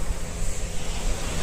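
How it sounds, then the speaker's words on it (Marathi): Ocean waves wash in steadily on a beach at Mangalore, a broad roaring surf sound with wind rushing across the microphone, no voices present. "आणि त्या लाटांचा आवाज"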